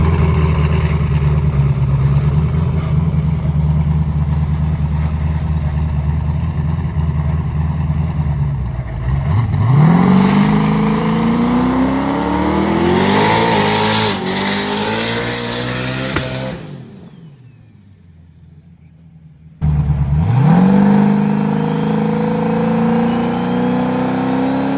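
A turbocharged C5Z Corvette with a TH400 transmission makes a quarter-mile drag pass: a loud engine idles, then surges through rising gear pulls, cuts out abruptly into near silence, and roars back again.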